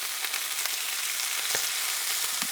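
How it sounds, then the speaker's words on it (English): Antelope steak searing in a hot pan gives off a loud, continuous close sizzle with a dense crackle and a few brief pops, with no one talking. "This is just going to be a slight sear because of how tender this steak is."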